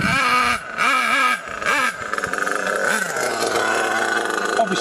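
A nitro RC car engine runs with strong compression and needs tuning, revving in a few rising and falling bursts before settling into a steadier, lower drone, close by and loud.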